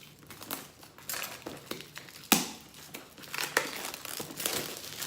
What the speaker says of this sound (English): Let's cut away some of this plastics here.